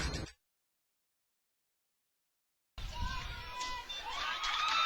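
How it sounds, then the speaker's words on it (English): A crowd of high school football fans at a Waggener Wildcats game cheers and shouts, a brief burst, then silence, then a sustained roar of mixed voices with higher children's shouts. "We got a big crowd right below us of Waggener Wildcat fans."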